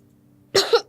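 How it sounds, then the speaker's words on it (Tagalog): A woman gives a single short, close cough, a sharp burst with a second push right after it, against a quiet background hum. "Ate, umuubo ka na naman."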